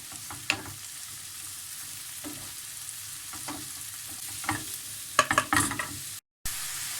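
Mushrooms and peppers sautéing in a pan, a low continuous sizzle broken by occasional spoon scrapes and a brief cluster of clattering stirs toward the end, close and quiet.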